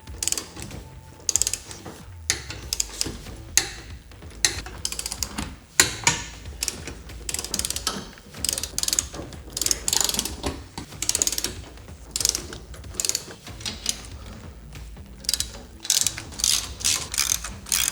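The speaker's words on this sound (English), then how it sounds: "we're going to torque everything down to the specs in the manual" A hand ratchet clicks steadily in close, rapid bursts while bolts are torqued down on a WeatherGuard truck rack, with brief pauses between runs of clicks.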